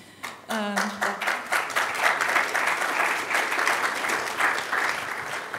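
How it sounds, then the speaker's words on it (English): A crowd bursts into sustained applause, many hands clapping steadily and densely for several seconds. "I would like to give a great applause to these women as well"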